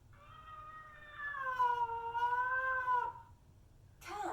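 A single drawn-out cat meow, loud and close, rising and falling in pitch for about two seconds, used as an animal sound in a kindergarten reading activity, followed by a brief noisy burst.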